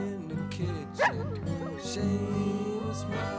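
A hound howls and yelps along with a song, its wavering cries rising over sustained musical tones.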